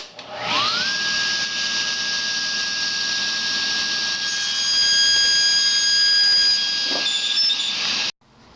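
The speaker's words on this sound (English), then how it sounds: "now I'm just going to cut a small square out of a scrap of that 3/4 inch thick" A power saw whines steadily through a scrap of 3/4 inch thick 2x4, a high sustained tone rising at the start and holding for about seven seconds before cutting off abruptly.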